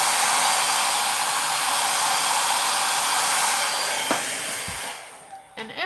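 A hair dryer roars with a steady airy hiss, then winds down and cuts off near the end, leaving a few soft clicks and handling noises.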